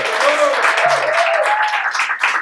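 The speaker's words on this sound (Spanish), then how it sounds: "Ahora sí, el aplauso, señores" Studio audience applause breaks out on a Puerto Rican talk show, continuous clapping with a voice talking over it at the start.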